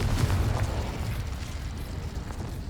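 A Confringo spell goes off in Hogwarts Legacy as one dense, rumbling burst that hangs on as a low roar for a couple of seconds.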